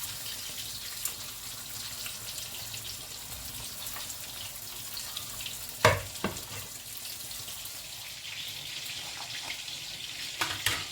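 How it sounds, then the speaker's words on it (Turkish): İnegöl meatballs fry in hot oil with a soft, steady sizzle and crackle, joined by a few sharp clinks of utensils in a home kitchen. "köftelerimizi kızgın yağımıza alalım"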